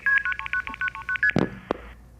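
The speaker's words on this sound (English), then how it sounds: "And multi-frequency, some of you might have heard this when you were dialing." Multi-frequency telephone signalling tones from the old internal phone system: a rapid string of about ten short, evenly spaced two-tone beeps, loud and alone, followed by a couple of sharp clicks.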